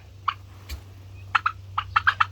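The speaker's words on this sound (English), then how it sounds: "I have the big group of turkeys out" Turkeys, a big flock including young poults, gobble in short, throaty bursts, one early and then a rapid cluster near the end, over a steady low hum.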